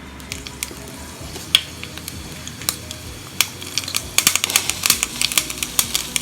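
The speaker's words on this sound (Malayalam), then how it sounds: "അപ്പൊ നമുക്ക് ഇതിലേക്ക് കടുക് ഇട്ട് കൊടുക്കാം." Mustard seeds hit hot oil in a pan while making Udupi-style rasam, sharp scattered pops and crackles over a low sizzle that grow denser and faster toward the end.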